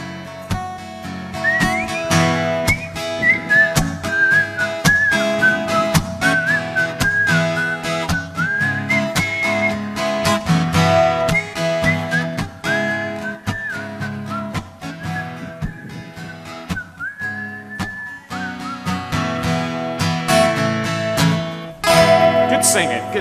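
A person whistles a melodic tune over a full instrumental backing, the whistled line running steadily and clearly through most of the passage, with no talking.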